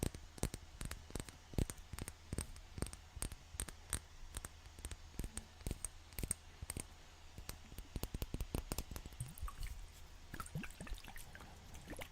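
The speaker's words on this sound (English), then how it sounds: "do you enjoy the water sounds?" Water is handled close to the mic in a quiet room, with crisp irregular clicks, drips and small splashes in a steady patter, growing denser and more trickling near the end.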